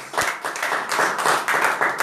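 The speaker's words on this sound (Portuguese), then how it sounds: "As palmas louvam o Senhor" A church congregation clapping together in praise, rapid rhythmic hand claps in a steady beat, loud and close, with a faint murmur of voices underneath.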